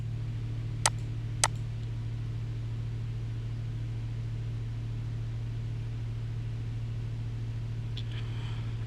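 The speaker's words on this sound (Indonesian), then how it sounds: "ini aku nyalain kipas angin" A household electric fan runs with a steady low hum and motor drone under light hiss, recorded on a Shure MV6 USB microphone with no noise suppression; two sharp clicks come early on.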